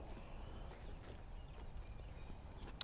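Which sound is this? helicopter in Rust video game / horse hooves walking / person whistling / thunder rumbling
horse hooves walking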